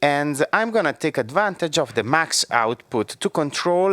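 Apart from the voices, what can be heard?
No everyday noise stands out behind the speech.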